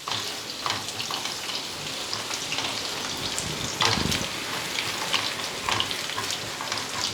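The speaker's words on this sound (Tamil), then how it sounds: "இந்த வெங்காயம் நல்லா வந்து கோல்டன் ப்ரௌன் கலரில் ஆகட்டும்." Sliced onions fry in hot oil in a pan for fish curry, giving a steady, close sizzle and crackle throughout, with one louder burst of spitting near the middle.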